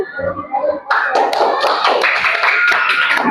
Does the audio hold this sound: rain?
no